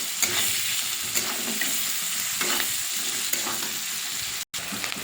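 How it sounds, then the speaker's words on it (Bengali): Onions fry in hot oil left over from frying potatoes. The steady, fairly close sizzle is broken by repeated scraping stirs and ends with a brief cut-out near the end. "ওই তেলের মধ্যে দিয়ে দেবো পেঁয়াজ থেকে পেঁয়াজটা ভাজা ভাজা করে নেব"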